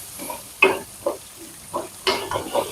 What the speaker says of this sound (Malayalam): അതിന് ശേഷം തക്കാളിയും കൂടെ ചേർത്തിട്ട് നമുക്ക് വഴറ്റി കൊടുക്കാം.